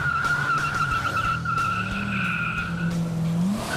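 The tires of a 1990 Chevy 454 SS pickup with a big-block V8 chirp as the truck shifts into second gear. A sustained squeal rides over the loud engine and drivetrain roar, which bends in pitch through the shift.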